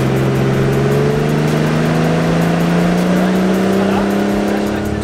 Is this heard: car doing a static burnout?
yes